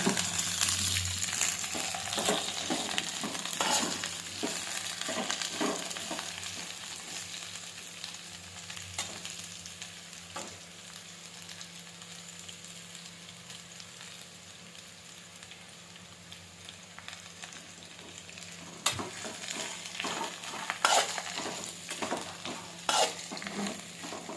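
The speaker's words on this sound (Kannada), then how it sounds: "ಇವಾಗ ನಾವು ಸಣ್ಣ ಕಟ್ ಮಾಡಿ ಇಟ್ಕೊಂಡಿರುವಂಥ ಕ್ಯಾಬೇಜ್ ಹಾಕೋಣ. ಇದನ್ನು ಸ್ವಲ್ಪ ಫ್ರೈ ಮಾಡೋಣ." Finely chopped cabbage fries in a pan while it is stirred repeatedly, so soft sizzling runs under frequent scraping clicks. The sound is louder at the start, fades in the middle and picks up again near the end, with no speech.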